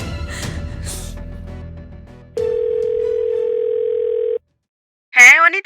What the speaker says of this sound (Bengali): আমি ম্যাডামকে ফোন করছি, বলছি সব।